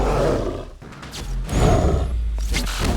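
A bear roars in Assassin's Creed III, deep guttural growls and snarls rising and falling in several close, loud bursts with thuds of a fight underneath.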